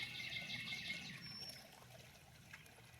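Water trickles softly in a backyard garden pond, a faint, gentle dribble with a few brief bird chirps over it, quiet and close, fading slightly over a few seconds.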